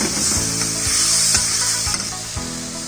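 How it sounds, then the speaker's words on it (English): Tomato puree sizzles and bubbles in a soup pot, a loud close hiss broken by a few soft knocks and scrapes of stirring. "add tomato puree and cook it for another 2 to 3 minutes"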